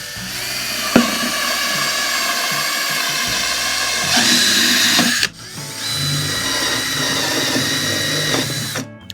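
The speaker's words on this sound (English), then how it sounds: "you're just going to hook it up to a regular drill and drill." A power drill fitted with a circular hole saw bit cuts through a plastic bucket, a steady high whining grind that runs continuously, breaks off briefly midway, then resumes and ends abruptly.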